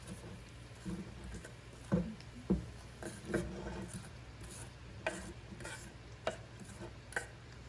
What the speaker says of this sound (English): There goes the onions. You can hear it starting to sizzle.